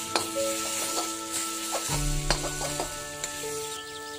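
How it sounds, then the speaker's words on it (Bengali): A hilsa fish head sizzles in spice paste in a pan while being stirred, a steady crackling fry with scraping clinks of a utensil against the pan, close and alone. "এই মশলার সাথে মাথাটা আমি খুব ভালো করে কষিয়ে নেব"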